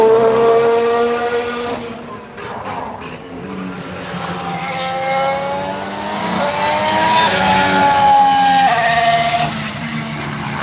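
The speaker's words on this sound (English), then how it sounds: "So good to see Haas back out on track." A Haas Formula 1 car screams past on track during Barcelona testing, loud and close, its engine note sweeping up and down through gear changes with no talk over it.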